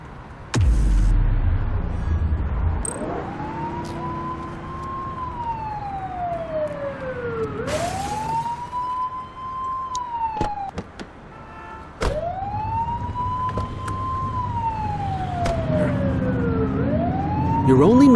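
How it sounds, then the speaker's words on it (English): A wailing police siren from the video game The Precinct sweeps up and down repeatedly, with brief clicks and engine hum between cycles, in a synthetic game-like mix. "You're only meant to use the siren in emergencies."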